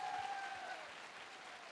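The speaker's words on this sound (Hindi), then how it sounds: "मैं चाहूंगा एक बार जोरदार तालियां होनी चाहिए।" A faint, distant patter of audience applause at an indoor gathering fills the short stretch, steady and soft with no voices over it.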